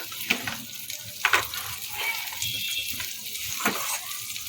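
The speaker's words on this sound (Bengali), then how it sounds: "অল্প একটুখানি বাটার দিয়ে দিলাম" Butter melting in a pan, ahead of chopped garlic and green chilli for a vegetable pasta soup, gives a soft steady sizzle with a few brief clinks and scrapes over a continuous hiss.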